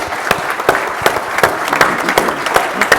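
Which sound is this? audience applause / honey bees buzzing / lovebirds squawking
audience applause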